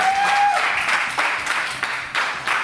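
Audience applause at a live blues concert, a short burst of crowd clapping in a club, with a brief tone at the start, coming in uneven swells.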